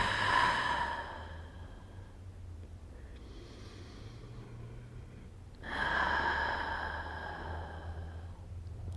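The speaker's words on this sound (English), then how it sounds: "We're just going to take 3 more breaths here" Deep breaths during a soft-ball release exercise for the belly: a loud exhale, a quieter pause, then another strong breath, close and alone.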